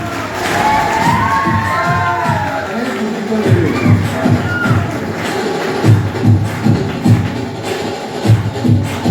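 Crowd noise at an aarti competition prize announcement, a loud, continuous mass of cheering and applause with shouting voices, thumps and shuffling running through the whole stretch.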